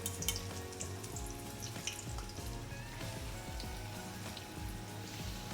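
Bitter gourd pakoda sizzles steadily in hot oil, a dense crackling fry with scattered pops and bubbling, close and continuous with no voices.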